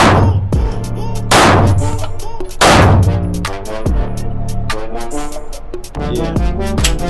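Rapid string of loud, sharp striker-fired pistol gunshots, several sharp reports spaced unevenly over a few seconds with ringing decay between them, close to the microphone.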